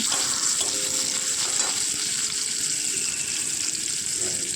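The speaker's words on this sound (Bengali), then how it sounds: "অল্প পরিমাণে যে তেল আছে তার মধ্যেই দেখো আমি দিয়ে দিলাম একটা টমেটো কুচি করে নিয়েছিলাম। তো টমেটো কুচিগুলো দিয়ে দিলাম, দিয়ে একটু হালকা নাড়াচাড়া করতে থাকবো।" Chopped tomatoes fry in a little oil, a steady close hiss of sizzling with faint scrapes of stirring throughout and no voices.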